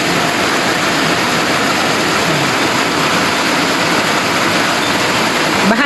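Floodwater from Typhoon Goring rushes in a loud, steady roar that fills the whole stretch without pause, broad and churning like a torrent close by.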